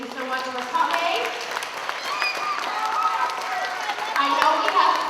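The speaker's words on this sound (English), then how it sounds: "let's give everybody a big round of applause" An audience at a time capsule reveal event claps in a sustained round of applause, with crowd voices and cheering mixed in over several seconds.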